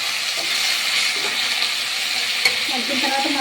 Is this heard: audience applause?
no